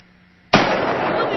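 A gunshot from a sawed-off shotgun: a single sudden loud blast after a quiet moment, followed by a broad, sustained ringing wash of noise.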